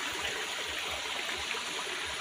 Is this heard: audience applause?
no